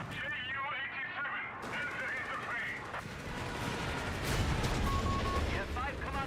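Machine gun fire in the Company of Heroes strategy game, with distant bursts and explosions layered behind game effects and a talking voice, growing louder toward the end.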